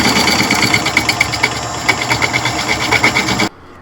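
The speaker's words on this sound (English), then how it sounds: "I'm going to true up the bottom here so I could put a smaller glue block on there" A wood lathe trues up the bottom of a punky burl bowl, giving a loud, steady mechanical drone with rapid rhythmic knocking from the uneven blank, then cutting off abruptly near the end.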